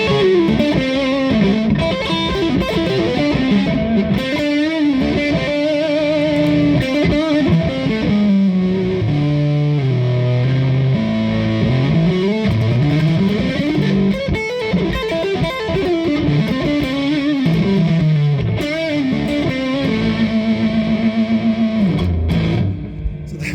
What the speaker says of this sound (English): it's really like a full-on fuzz or a totally saturated amplifier